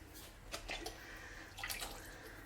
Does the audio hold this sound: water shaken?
yes